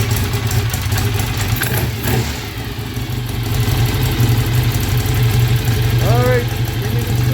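A motorcycle engine running after its right-hand carburetor was cleaned, a steady mid-pitched idle with a low throb and some clatter, heard close by with brief background noises and voices.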